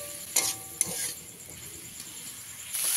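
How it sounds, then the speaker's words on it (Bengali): Chopped figs sautéing in a pan for a vegetarian dish, with a soft steady sizzle and a couple of sharp scrapes and clinks as a spatula stirs them, close and without talk. "আমি প্রায় এখানে 4 থেকে 5 মিনিট ডুমুরগুলোকে ভালো করে কষিয়ে নেব"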